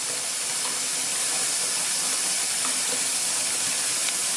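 Tap water pours into a bathroom sink in a house under remodel and drains away as fast as it flows, giving a steady broad hiss and splash with no talk.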